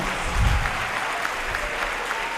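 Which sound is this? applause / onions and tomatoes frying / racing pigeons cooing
applause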